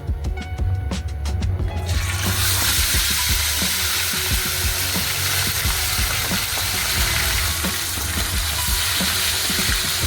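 Quail frying in hot oil, a loud steady sizzle that bursts in after a quieter moment of stirring and then crackles on close and continuous, with no talking.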